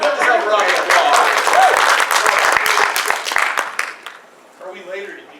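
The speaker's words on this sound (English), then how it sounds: "Give yourself a round of applause." Audience applause at a fan convention panel, loud dense clapping from a crowd with voices mixed in, tapering off near the end as scattered talk continues.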